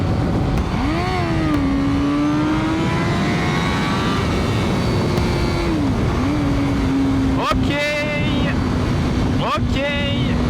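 A Honda CBR1000RR-R superbike engine revs and accelerates on a motorway, its whining pitch rising and falling in sweeps under steady, heavy wind roar. A sharp higher burst comes near the end.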